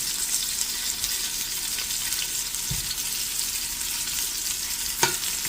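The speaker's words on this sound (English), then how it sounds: "Let them get a nice sear on the side." Beef pieces sear in a pot, giving a steady, fairly loud frying sizzle with a couple of brief knocks from stirring near the end.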